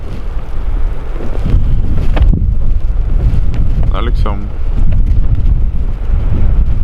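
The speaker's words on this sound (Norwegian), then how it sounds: "Jeg ligger egentlig bare her og hører på vinden i trærne." Steady winter wind roars and rushes through trees without pause, while a voice speaks briefly partway through.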